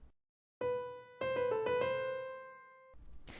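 A single melodic instrument plays a B, then a quick turn ornament of several rapid notes before settling onto C, clean and isolated with brief silence before and after.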